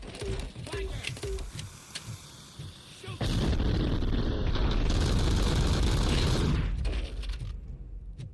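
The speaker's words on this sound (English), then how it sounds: "Fires grenades." Grenades fired in the game RoboCop: Rogue City: a sudden loud blast, then a sustained roar of explosions and debris lasting several seconds, preceded by quieter gunfire clatter.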